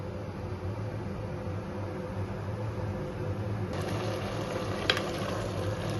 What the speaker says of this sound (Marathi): ह्याला आता आपण छान अशी उकळी येऊ देऊ.